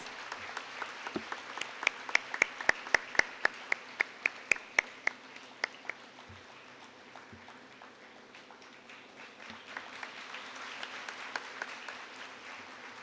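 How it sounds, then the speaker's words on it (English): An audience at a college award ceremony at St. Teresa's College in Ernakulam claps, starting with a few sharp nearby claps and settling into sustained moderate applause from a sizable crowd. "Please give her a big round of applause."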